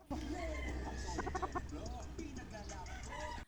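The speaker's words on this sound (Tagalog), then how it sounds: "Ito naman yung mga manok na pinungusan ni Jayfern." Young gamecock stags and other chickens cluck and call close by in a farm pen, a busy, continuous flock chatter with overlapping calls throughout.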